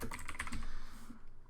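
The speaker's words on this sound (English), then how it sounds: "keep on typing, say more stuff" Rapid typing on a computer keyboard, a quick close run of soft key clicks that thins out and stops near the end, fairly quiet.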